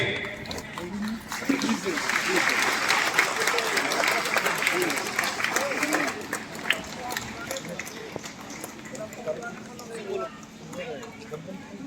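Applause from an audience at a Catholic men's annual general assembly for the Saint Joseph feast in Mandar, a sustained crowd clapping that swells and fades, heard under someone speaking over a microphone.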